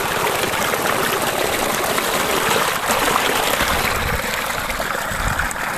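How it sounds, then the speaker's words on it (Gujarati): River water flows in a steady, broad rushing wash that stays close and constant the whole time, with no voices heard. "જો નદીમાં પાણી આવે છે અત્યારે."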